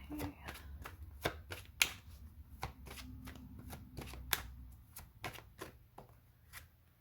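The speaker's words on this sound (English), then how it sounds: "I'm going to pull one more card from this deck" Oracle cards shuffled and drawn from a deck, a rapid run of crisp riffling snaps and slaps at close range, one card after another with uneven rhythm over a low room hum.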